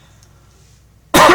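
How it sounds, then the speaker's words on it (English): A single loud, harsh cough bursts out abruptly after a near-silent pause, close to the listener. "I have a bit of a cough"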